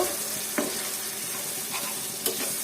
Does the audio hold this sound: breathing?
no